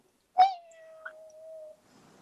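A single drawn-out cat meow, mimicked by a human voice at a party event, opens with a sharp onset and holds a long, steady tone before fading, alone against silence.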